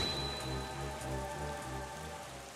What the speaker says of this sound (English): freaking rain, it's in the way